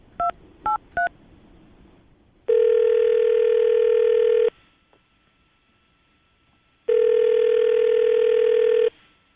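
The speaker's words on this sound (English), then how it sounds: "we're going to call her right now" A phone call is placed: three quick dialing tones, then two long electronic ringback tones separated by a silent gap, clear and close.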